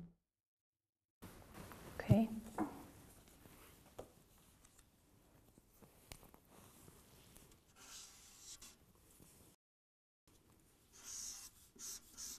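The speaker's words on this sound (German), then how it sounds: "Ich würde Sie bitten, dass Sie einmal Schmerz auf diese Karte schreiben." A pen writes a word on a card in a quiet therapy room, giving soft scratching strokes in short bursts with pauses, close and faint, between stretches of near silence.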